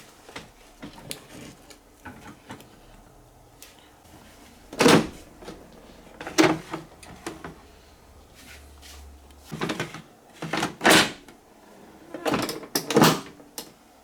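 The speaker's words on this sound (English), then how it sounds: "open the door, empty the drip tray and reinsert" A series of plastic clicks and knocks as a Siemens EQ.300 coffee machine's door and drip tray are opened, pulled out and pushed back in, with quiet pauses between.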